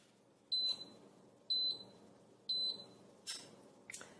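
A kitchen timer for a Cuisinart GR-300WS Griddler Elite grill cooking paninis beeps in three evenly spaced high electronic pulses, then a couple of clicks and clatter, fairly close over a low room hum.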